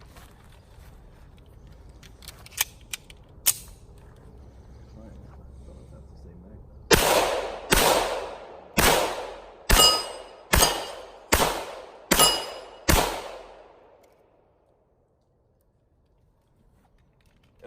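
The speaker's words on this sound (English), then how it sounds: "gonna give this a few more shots" Eight loud pistol shots from a Smith & Wesson E Series 1911 fire in a steady, evenly spaced string at a range, each sharp crack ringing out briefly, after a few softer clicks and handling noises.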